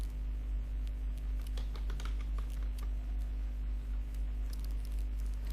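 Steady clicking of typing on a computer keyboard, entering a search term into a website, with key taps scattered through the whole stretch over a constant low hum.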